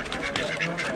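Runner duck drakes at an animal auction give a quick series of raspy, nasal quacks, close and fairly loud, crowding one another within a second.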